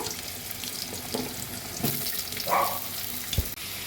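Potatoes and a bay leaf going into hot oil tempered with cumin seeds, heard as a soft steady sizzle with a brief louder burst and a few clinks, close but fairly quiet.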